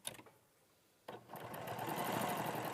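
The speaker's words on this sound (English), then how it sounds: "I'm just going to sew along that line." Sewing machine stitching a straight seam along a marked line on fabric, a brief pause of quiet handling then the motor starts and runs as a steady close, rapid needle hum for the remaining seconds.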